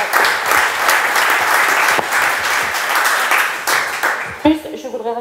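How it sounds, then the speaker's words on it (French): An assembly audience applauds in a hall, a dense, loud burst of clapping that holds steady for about four seconds and then fades out as a voice starts speaking. "ça s'applaudit, franchement."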